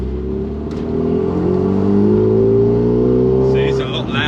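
A stripped-out 325 bhp Renault Megane exhaust revs with a deep, throaty drone, close and loud, the engine note climbing slightly and holding steady for several seconds.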